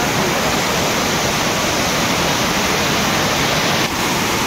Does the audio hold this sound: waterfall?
yes